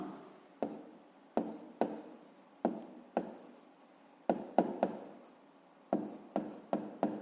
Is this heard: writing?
yes